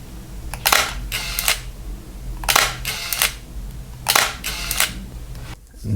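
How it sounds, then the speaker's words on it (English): A Leica M8 camera shutter fires three times in spaced pairs of crisp, harsh mechanical clicks, close up and clear against a quiet background. "This one have a harsher sound in the shutter."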